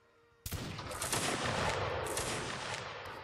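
A sudden massed volley of gunfire on command in a video game, a sharp loud crack followed by a dense, sustained roar of overlapping shots and echo lasting about three seconds.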